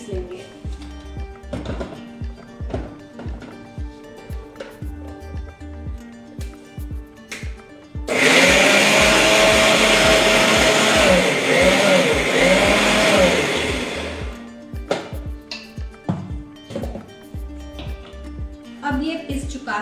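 Spinach being ground in a blender: a loud, steady whirring motor roar lasting about six seconds, preceded and followed by someone talking in Hindi and kitchen clatter.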